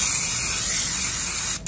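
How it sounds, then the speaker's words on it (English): Cooking spray grease hisses from a can onto a baking pan for banana bread, one steady, close spray lasting under two seconds that cuts off abruptly. "You don't have to use spray grease."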